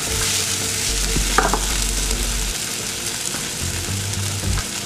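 Spätzle frying in fat in a pan give off a loud, steady sizzle, close up, with occasional stirring scrapes and a low hum in the background.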